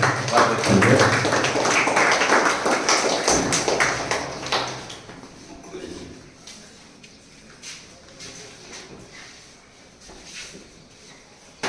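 Audience clapping to welcome a writer to the stage at a book launch event, a dense burst of applause for several seconds that thins into scattered claps, with a voice over it.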